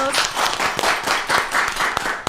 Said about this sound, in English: Somebody's clapping a little too loud for me.